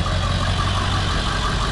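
A 2000 Ford F250 Lariat crew cab 4x4 with a 7.3 diesel and aftermarket exhaust idles close by, giving a steady, loud, even low rumble with no talk over it.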